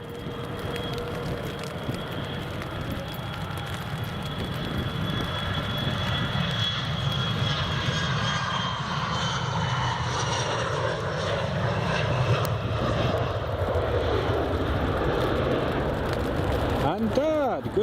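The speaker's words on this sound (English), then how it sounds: "Here goes the Loganair." Loganair aircraft engines at Edinburgh Airport, a sustained roar that builds slightly and holds steady with a droning tonal hum, rising whine near the end, heard from a distance with occasional voice nearby.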